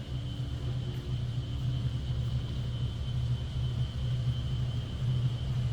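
A 1953 Ford Customline sedan engine idles quietly and steadily, a low, even rumble with a faint high whine above it and no voices.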